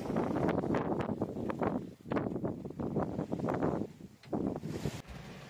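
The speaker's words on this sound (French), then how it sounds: "Ça souffle un peu, 15-16 nœuds." Steady gusting wind buffets a sailing boat close-hauled at sea in about 15–16 knots of breeze, with rushing air and microphone wind noise rising and falling in surges over the water.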